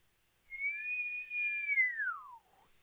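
A person whistles one long, steady note imitating a marsh wiggle, holding it for about two seconds before it slides downward and fades, heard alone in a quiet room.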